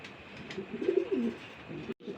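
Maxi Racer racing pigeons with Belgian-style knots coo softly in a loft, a few low rolling coos rising around the middle and fading away, with faint background noise and a brief dropout near the end.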